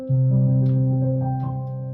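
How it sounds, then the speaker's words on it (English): A soft, mellow chord on a Nord Grand 2's soft grand sound, sampled from a Yamaha G2, rings out and sustains for about two seconds, close and fairly loud, with faint key noises. "that's the sound of the soft grand, which is a Yamaha G2"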